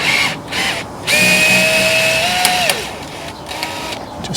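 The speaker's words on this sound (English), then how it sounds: "I've got a very slow drill." A slow power drill whines through one sustained run that rises slightly in pitch and then winds down, close and clear, while fitting a sway bar to a vehicle.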